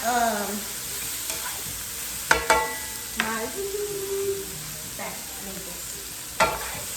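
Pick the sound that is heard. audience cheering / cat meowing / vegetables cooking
vegetables cooking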